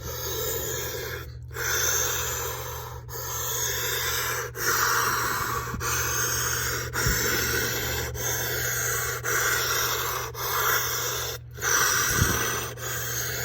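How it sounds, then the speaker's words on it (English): Slow, deep breathing in a breathing exercise, long drawn inhales and exhales close to the microphone, repeating at an even pace of several seconds each over a low steady hum. "So I'm going to do some deep breathing."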